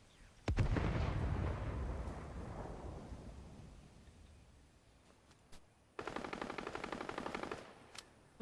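Loud bursts of automatic gunfire from a bot in Fortnite Zero Build ring out close by, a long rolling volley fading away, then a second tight rapid burst.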